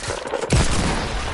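Hand cannon gunfire in a shooter video game, a loud close shot with a heavy low thump that rings out into a sustained rumbling tail.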